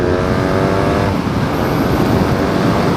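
BMW R nineT Racer motorcycle engine pulling hard on an open road, a loud continuous engine note with rising harmonics through the first second, then a broad steady roar with wind and road noise close to the rider.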